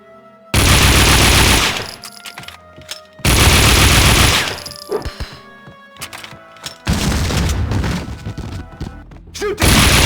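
Loud bursts of automatic gunfire in Max Payne, three long rapid volleys separated by short gaps, close and dense with heavy thumps and crashes.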